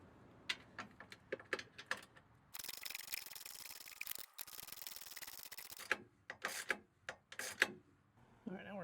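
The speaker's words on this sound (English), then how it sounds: "Start with the wrench in so we can get enough room to run the ratcheting end on." A ratchet wrench tightens a bolt on a retractable rear bed step on a 2024+ fourth-generation Toyota Tacoma. Quick, close clicks come first, then a longer stretch of continuous rasping, then more scattered clicks.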